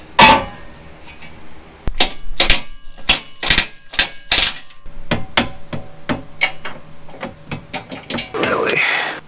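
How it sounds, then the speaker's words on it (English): An impact wrench drives skid plate bolts on a Jeep Rubicon 392, giving sharp, loud rattling hammer bursts in uneven runs up close, with a brief whir near the end. "I'm just gonna tighten them with the impact"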